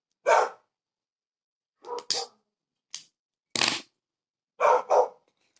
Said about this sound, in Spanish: mi perro sale un perro a ladrar